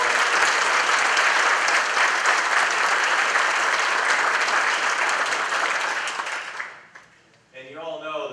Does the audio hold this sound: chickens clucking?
no